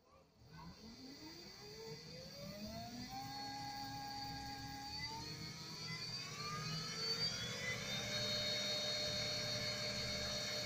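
A servo motor on a Taig metal lathe spinning up, its whine rising steadily in pitch to its 4000 rpm maximum and settling into a high, sustained hum, fairly quiet and close.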